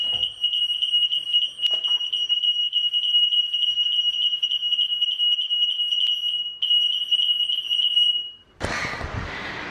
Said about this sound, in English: the smoke alarm just went off